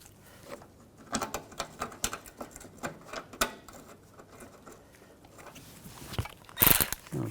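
Screws being tightened on the front bumper of a 2006-2010 BMW 550i, a run of light ticking and clicking strokes in uneven bursts, close and fairly quiet, ending in a brief louder rattle.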